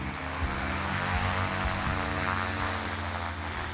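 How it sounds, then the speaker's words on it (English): Ski-equipped propeller aeroplane flying over Antarctic snow, a steady loud engine drone with prominent low harmonic hum and whirring propeller tones, continuous throughout with no voices. "The aeroplane has skis, so it can land on the snow."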